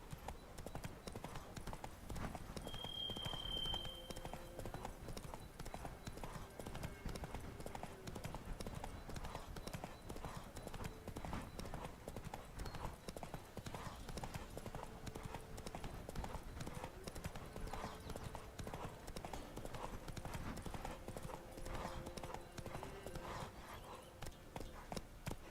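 Roach, Geralt's horse in The Witcher 3, gallops with a dense, constant drum of hooves that runs the whole time, while voices speak now and then over the rhythm.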